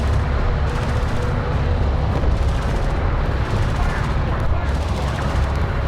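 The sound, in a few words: enemy railgun firing in video game Homeworld: Deserts of Kharak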